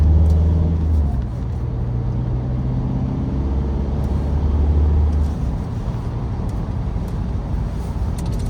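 Audi car with a turbo cruising at night, a steady low engine drone with road rumble from inside the cabin, fairly loud and unbroken, with no speech over it.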